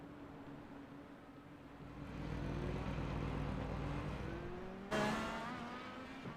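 Race cars at Road America pulling away from synchronized pit stops, engine roar swelling and then fading at moderate distance, with a sharp louder burst near the end.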